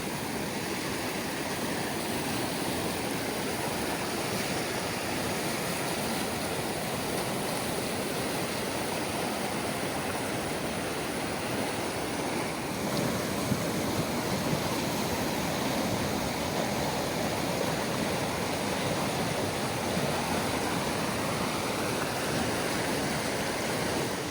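An overflowing mountain stream near Telluride, Colorado rushes steadily, a dense, continuous roar of water with no pauses or talking.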